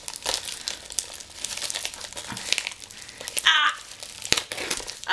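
Paper crinkles and rustles close by as an envelope holding a contest prize is opened, with irregular crisp crackles and a few sharper tears.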